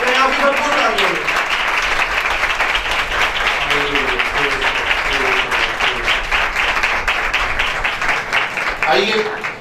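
A church congregation gives loud, sustained applause as Pastor Ramoon Bhatti is welcomed, dense clapping close and strong throughout, while a voice speaks over it at the start and again near the end.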